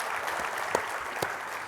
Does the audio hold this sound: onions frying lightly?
no